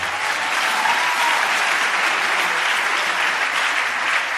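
A church congregation gives loud, dense applause that holds steady throughout and fills the room without any pause.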